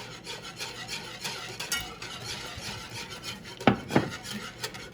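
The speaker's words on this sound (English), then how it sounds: "we can take it and whisk it into the pot" A cornstarch dessert mixture is whisked in a pot on the stove, giving a steady soft rasping stir with a couple of sharper scrapes of the whisk against the pot near the end, close and fairly quiet.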